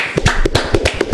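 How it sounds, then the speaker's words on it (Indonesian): A small group claps hands in a short, close burst of rhythmic applause, each clap sharp and distinct. "tepuk tangannya dulu dong"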